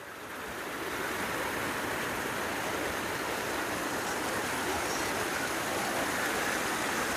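A waterfall on the mountain trail from Bhimtalai to Kunsha on the Shrikhand Kailash trek pours in a loud, steady broadband roar that swells in over the first second and then holds without a break.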